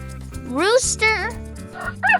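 A rooster crows once in a loud rising-then-falling call over light music, followed by short clucking notes.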